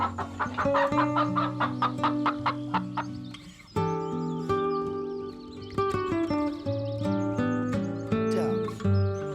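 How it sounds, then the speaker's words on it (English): A hen clucks in a rapid run of short, repeated notes, then a few scattered ones, all set against continuous background music. "Hen. It's a"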